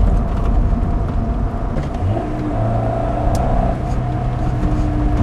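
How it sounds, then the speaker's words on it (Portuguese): A Honda Civic Del Sol's VTEC engine runs with a steady, loud low drone and rumble, heard from inside the cabin with no talking. "só para ouvir o VTEC funcionando já vale a diversão"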